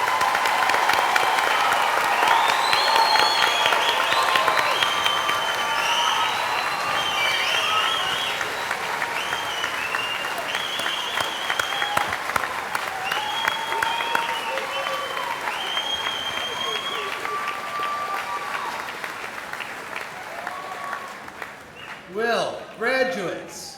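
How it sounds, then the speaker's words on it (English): Warm, sustained applause from a large audience at a university spring graduate commencement, honoring graduate students; a dense wash of clapping that gradually thins, with a voice speaking over the final moments. "let us now recognize these graduate students with our warm applause for their outstanding educational achievements"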